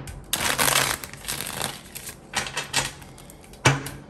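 Tarot cards being shuffled, a run of dense papery riffles and flutters with short pauses, ending in a sharp card slap near the end; close and fairly loud, with no talking.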